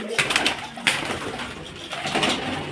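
Pigeons coo nearby in low, soft bursts, with some rustling and background noise around them.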